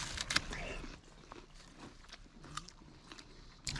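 Raw ground pear tuber, a watery jícama-like root, gets bitten and chewed up close, with a crisp crunch at the start followed by quieter wet chewing and scattered small crunches.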